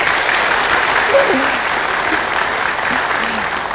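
Audience applause at a Ramadan gathering of Indonesian street vendors, a steady dense wash of many hands clapping throughout, with faint voices briefly rising over it.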